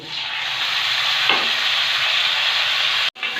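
Ridge gourd stirred into boiled potatoes in a hot pan gives a loud, even sizzle lasting a few seconds, with one faint scrape, then a brief cut to near silence before frying resumes.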